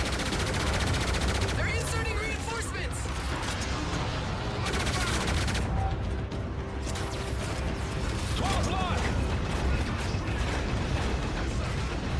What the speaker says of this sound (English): Quit shooting me through walls.